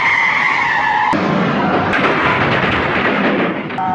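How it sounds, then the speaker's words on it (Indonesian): A car smashing into a wall and bursting in a violent explosion, a loud dense roar of debris and blast noise with sharp impact cracks, starting after a brief tone-like lead-in. "lalu menerjang tembok dan meledak dahsyat"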